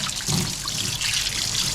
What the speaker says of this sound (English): get the water run all the way through